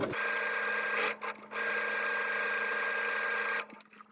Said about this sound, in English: we're going to sew along the line between 2 and 3, going all the way out to the edges of the seam allowances.